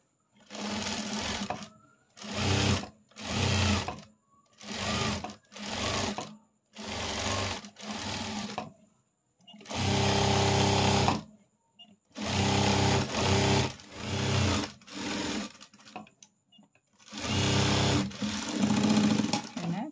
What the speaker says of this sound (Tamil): லைனிங்கும் மேல் துணியும் வச்சு ஒரு தையல் போட்டுடலாங்க அப்படியே சுற்றியும்.